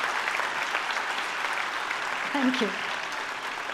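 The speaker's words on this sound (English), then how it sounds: "Can we have a thunderous round of applause for all the awardees?" An indoor audience at a 50th Institute Day celebration at NIMHANS claps steadily for awardees, a dense, even round of applause with a voice briefly speaking over it.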